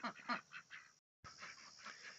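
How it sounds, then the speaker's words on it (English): Ducks foraging in a backyard garden, giving a run of quacking, honking calls at close range that break off briefly and then carry on steadily. "Ducks and foraging."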